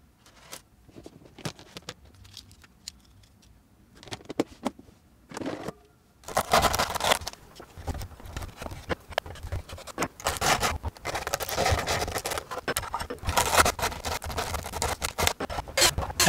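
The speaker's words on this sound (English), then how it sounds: "I had to remove supports from these holes" Support material being scraped and picked out of small holes in a 3D-printed gearbox part, faint sparse scratches at first, then dense, close, gritty scraping and crackling bursts in uneven rhythm.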